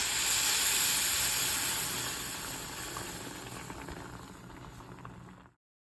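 Sausage gravy bubbles and sizzles steadily in a pan after two cups of 2% milk go in, a broad hissing simmer that fades slightly before cutting off abruptly.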